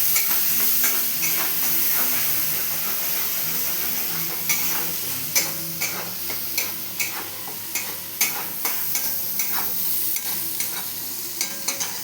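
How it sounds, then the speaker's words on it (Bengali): Chili, chili powder and cumin fry in hot oil for a banana-stem dish, giving a steady close sizzle with sharp spoon taps and scrapes against the pan recurring through the second half. "লঙ্কা দিলাম, লঙ্কার গুঁড়ো, জিরে দিয়ে একটু ভেজে মশলাটা"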